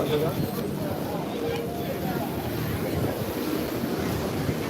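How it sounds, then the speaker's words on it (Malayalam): Strong wind and crashing sea waves at Varkala Papanasam beach during a Vavubali ritual morning. The surf and gusts make a loud, continuous roar with wind buffeting the microphone. "ശക്തമായ കാറ്റും തിരമാലകളും"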